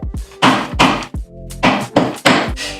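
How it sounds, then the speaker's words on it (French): A paper hole punch used as a hammer strikes repeatedly, about seven sharp, loud thwacks in an uneven rhythm with a brief ringing tone between blows, close to the microphone. "Donc c'est une perforatrice hein, qui sert à perforer des feuilles, mais elle va servir comme marteau maintenant."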